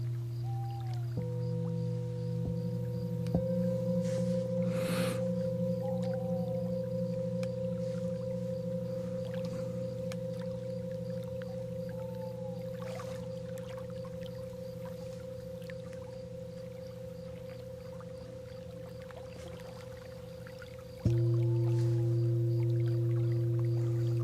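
Sustained sound bowls played for 432 Hz sound healing ring out in steady overlapping tones, with a new, louder bowl struck near the end joining the long resonant hum.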